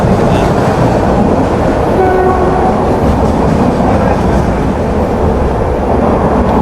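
The Banaras–Rameswaram Express rushes past close by, with a loud, continuous rumble and rattle of wheels on rails.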